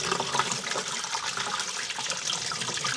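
Vegetables freshly picked from a small home garden being washed under running water, a steady close splashing and gurgling stream that fills the whole stretch without a break.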